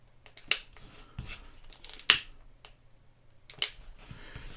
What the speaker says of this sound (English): Trim those off and just melt them down.